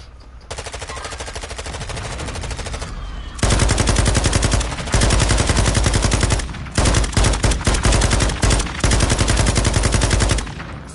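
Loud, sustained gunfire in Call of Duty Warzone: steady automatic bursts, then heavier rapid fire with brief gaps between volleys, close and dominant with no talk.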